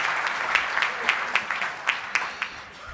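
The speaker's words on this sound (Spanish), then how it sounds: "Despidamos al conjunto con un fuerte y caluroso aplauso" Audience applause for a folk music group at a regional forum inauguration ceremony in Panama, a steady wash of clapping with a few sharper claps standing out, moderately distant.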